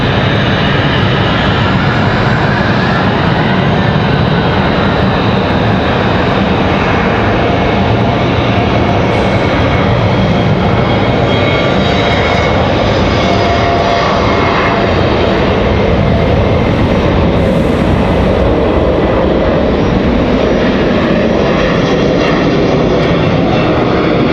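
Republic Airways jet rolling for departure to LaGuardia from Raleigh-Durham International Airport, a loud, sustained engine roar that holds strong and steady with no voices.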